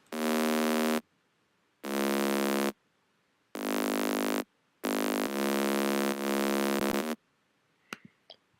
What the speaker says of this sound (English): It's just a distorted saw with some bright noise,